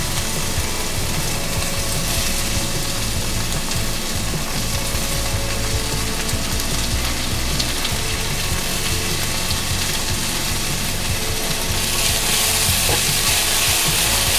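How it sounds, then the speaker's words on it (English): Red peppers sauté in a pan with a steady, dense sizzle and a faint clatter of stirring, continuous and close. "again saute our red peppers for about 1 minute"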